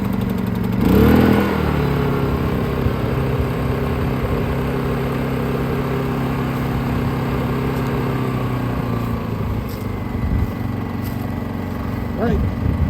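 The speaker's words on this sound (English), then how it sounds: "generator's running" A portable generator runs steadily with a constant mid-pitched engine drone, close and moderately loud, the hum holding even throughout with a brief bump in level near the start.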